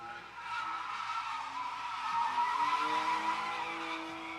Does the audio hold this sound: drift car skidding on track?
yes